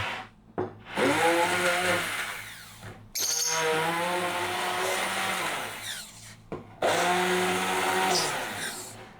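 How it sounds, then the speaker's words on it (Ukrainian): A motorized blender whirs loudly in three bursts, its pitch straining and shifting as it churns, with brief pauses between runs. "Беремо наш чудо-блендер, прибираємо ложку, щоб нас не вбили цією ложкою, якщо зачепить. І пробиваємо."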